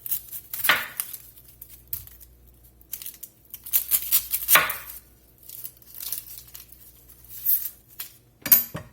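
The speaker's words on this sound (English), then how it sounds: "let's get to slicing some onions up" Onions are sliced with a knife in bursts of crisp cutting strokes against a board, separated by quiet pauses, with a few light clinks close by.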